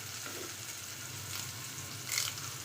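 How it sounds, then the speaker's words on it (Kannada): Bitter gourd fries in oil with a soft, steady sizzle and crackle, close and fairly quiet, with a brief louder spit of hissing near the end. "ನಾನು ಇದನ್ನು ಎಣ್ಣೆಯಲ್ಲಿ ಹಾಕಿ ಹುರಿತಾ ಇದ್ದೀನಿ"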